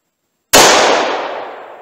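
One sharp, loud gunshot from a Ruger LCR revolver in .327 Magnum firing a Federal American Eagle load, heard close and alone after silence, with a long bright ringing decay.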